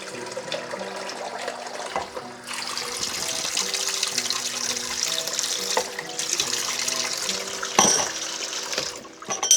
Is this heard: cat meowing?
no